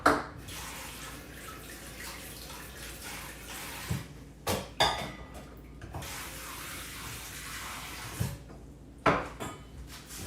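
Tap water runs steadily into a kitchen sink to soak bowls, with a continuous close splashing rush broken by clinks and knocks of dishes being handled.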